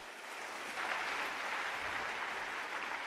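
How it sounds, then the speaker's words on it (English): A church congregation claps for the Lord during a sermon on procrastination. The clapping is soft, diffuse and steady, sounding somewhat distant, and it continues evenly for about three seconds. "Let's clap for the Lord."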